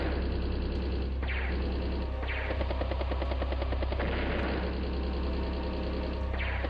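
A rocket unit firing in the strategy game Advance Wars: Days of Ruin, a steady loud mechanical drone with repeated sharp bursts of rattling fire and swooshes, no talking.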